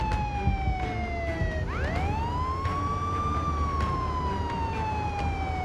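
Police siren in the video game Contraband Police, a loud wailing tone that slides steadily down, breaks off, then sweeps back up to a high held pitch over constant engine rumble, with no talk.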